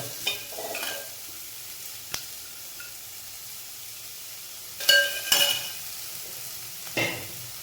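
A medium onion frying with chickpeas in a pan for kadala varattiyathu, a faint low sizzle broken by a few louder stirring scrapes and clinks, close by.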